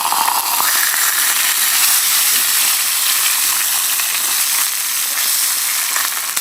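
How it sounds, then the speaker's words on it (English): Food sizzling and frying in a pan on a small Trangia spirit stove outdoors on a beach, a steady, close, continuous crackling hiss that carries on without break and with no talking. "I'm cooking it on a Trangia stove on a beach"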